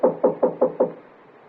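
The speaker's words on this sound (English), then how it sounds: "He knocked on the door." Five firm, evenly spaced knocks on the door of hotel room 203, hollow wooden raps in quick succession, then quiet.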